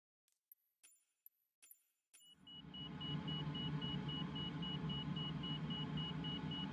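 A few sharp clicks open, then a continuous steady tone sounds over a loud constant engine and air drone inside a glider cockpit in Microsoft Flight Simulator, with no talking.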